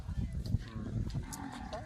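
Bulls gathered at a bullock cart race ground at Aundh, heard as low lowing and animal bellows amid crowd murmur, with a louder call near the middle and people talking nearby.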